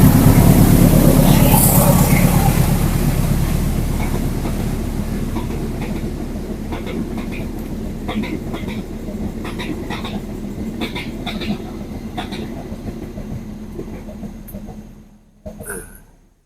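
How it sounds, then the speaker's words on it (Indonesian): A train rolls past on a railway about fifty metres away at a rainy campsite, its loud continuous rumble and clickety-clack of wagons filling the scene before fading away near the end. "ada kereta lewat"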